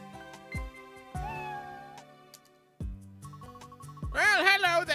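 Cartoonish cat meows from the Nintendo DS game Time Hollow, several short mewing calls over soft game music, ending in a burst of higher warbling cries.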